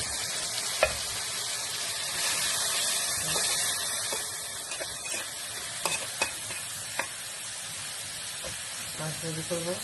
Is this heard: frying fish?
yes